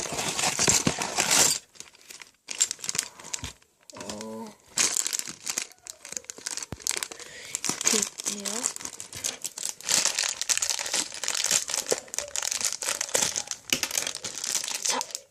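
A plastic Lego Ninjago minifigure packet is crinkled and torn open close up, with bursts of rustling and crackling throughout and a brief voice partway through.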